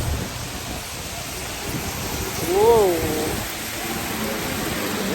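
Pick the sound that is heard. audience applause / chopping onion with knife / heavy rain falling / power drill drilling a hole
heavy rain falling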